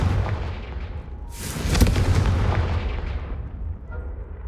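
A Confringo fire spell blasts in Hogwarts Legacy with a loud, booming burst that swells into a rumbling roar and then fades away, heard alone without speech.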